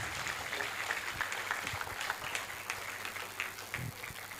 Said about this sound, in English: Please, can we keep clapping until she gets to her seat?